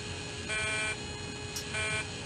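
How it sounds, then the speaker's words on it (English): Cockpit warning alarms sound inside a Challenger business jet at 2,000 feet after both engines lose oil pressure, a steady buzzing tone with two louder pulsed bursts and a brief high chirp between them. "Then suddenly, alarms."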